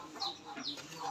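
A hen with an orange-colored neck, which laid an egg the day before, clucks a few times in soft, scattered calls, faint and somewhat distant.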